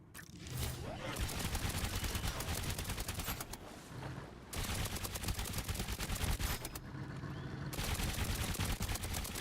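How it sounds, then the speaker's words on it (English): Weapons fire in the video game Trailmakers: loud, dense bursts of rapid gunfire run almost without pause, broken by two short lulls, with a faint voice now and then beneath the shooting. "I will continue to shoot you until you are out of range, sir"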